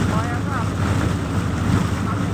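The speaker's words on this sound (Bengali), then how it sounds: "ছোট্ট একটি ট্রলার" A small trawler packed with around a hundred passengers chugs across the water from Patti Dasjangal bazaar toward Chhoygaon, its engine drone mixing with wind buffeting the microphone and splashing water, with faint voices in the background.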